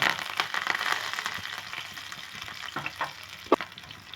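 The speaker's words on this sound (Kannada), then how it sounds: "ನಾನು ಕರ್ಬೇವು ಈರುಳ್ಳಿ ಒಟ್ಟಿಗೆ ಹಾಕಿದ್ದೀನಿ ಈ ಥರ ಹಾಕಿಬಿಟ್ಟು ಸ್ವಲ್ಪ ಕಂದು ಬಣ್ಣ ಬರೋವರೆಗೂ ಇದನ್ನು ಫ್ರೈ ಮಾಡ್ಕೋಬೇಕು" Chopped onion and curry leaves frying in hot oil in a pan: a steady crackling sizzle with scattered pops and a few stirring clinks, close and fairly loud, with no voices.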